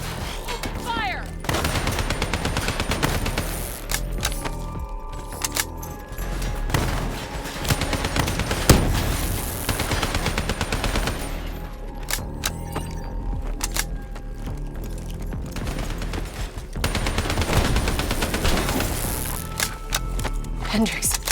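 Gunfire in the campaign of the video game Call of Duty Black Ops III, dense bursts of automatic fire and rattling volleys with brief lulls, voices speaking between and under the shooting.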